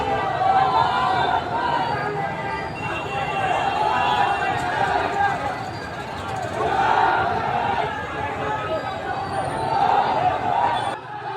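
Crowd of over 500 people chanting slogans on the streets of Dehradun, a dense loud babble of many voices surging in waves, with shouting mixed through.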